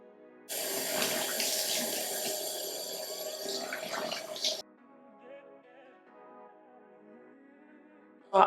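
Warm water runs steadily from a sink tap for about four seconds, a loud, close hiss of flowing water, then stops, leaving quiet handling noises and a brief splash or clatter at the end.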